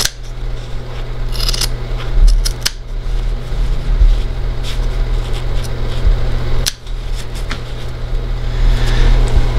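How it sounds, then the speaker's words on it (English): Scissors snip through pool table cloth near the staples, sharp cutting bursts over a steady fan-like hum, close and fairly loud. "using some good scissors or a knife, you want to make your first cut up towards the staple"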